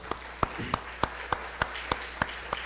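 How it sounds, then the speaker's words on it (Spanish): A church congregation claps in a steady, even rhythm, with about three crisp claps each second, heard faintly and without any talk over them. "¿Por qué no le damos un aplauso al Señor?"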